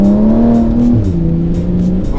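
An 1100 hp Nissan R35 GTR and a 900 hp Porsche 911 Turbo S launch together at a street drag race start, with a loud, close engine roar and a rising and shifting tone.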